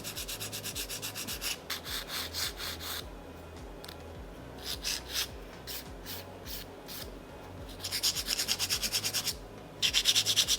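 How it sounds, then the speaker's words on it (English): Close, steady rasping strokes of a nail file shaping the sides and tip of a fingernail, fast rhythmic rubbing bursts with short pauses between runs, growing denser toward the end, no talk. "I'm still filing the sides here to bring them in. I'm also filing the top of the tip"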